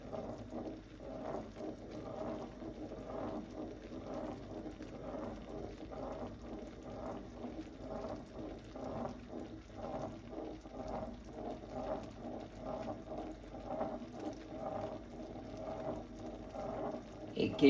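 A pan of condensed milk mixture bubbles and boils steadily, with a dense, continuous simmering texture and no speech over it.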